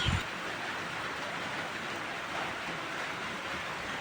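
Steady rain falls as a constant soft hiss that stays even throughout, at a moderate distance with no voices.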